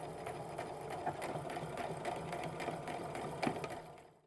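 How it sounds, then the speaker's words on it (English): Sewing machine stitching an apron with a pocket, running forward and back to secure threads in a continuous buzzing whir, close and fairly quiet, stopping near the end. "I'm going to sew up to it and then do my back stitching forward and back to secure those threads"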